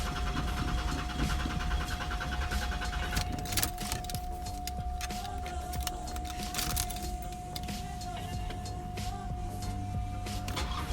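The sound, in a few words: fuel pump kicking in on a GM car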